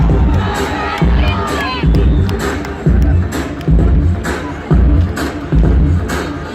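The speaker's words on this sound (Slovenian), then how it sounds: "prav je, da napravimo nekaj navijaškega vzdušja" A crowd at an Olympic torch event in Maribor cheers and shouts loudly, with excited voices and children's yells, and rhythmic claps or chants pulsing roughly every second.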